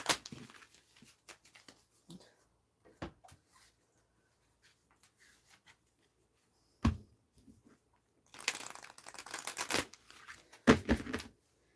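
Sparse soft tarot card taps and flicks, then a burst of riffling shuffles near the end, close and fairly quiet.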